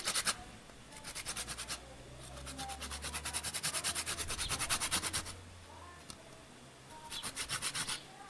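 Lemon is grated for zest around a serving board, giving bursts of quick rhythmic rasping strokes, close and crisp, with short pauses between runs.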